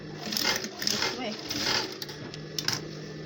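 A sewing machine runs in a steady mechanical patter while stitching a waistband onto a pair of pants, close and fairly busy. A voice talks over it now and then.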